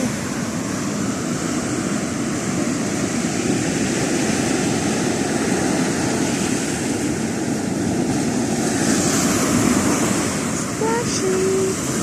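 Atlantic Ocean surf on a beach in Namibia, a loud, continuous roar of breaking waves close by that swells and recedes, with brief faint tones near the end.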